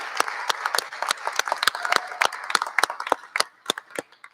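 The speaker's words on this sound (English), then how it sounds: "so everyone give them a round of applause" Audience applause for a college band at a Constitution Day event, a moderate crowd clapping in quick irregular bursts, close and clear, tapering off toward the end.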